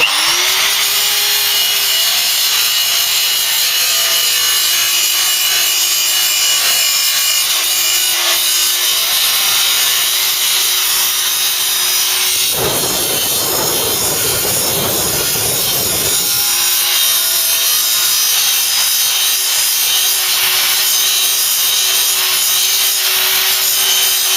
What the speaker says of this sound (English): So off I go now for a little bit more sanding.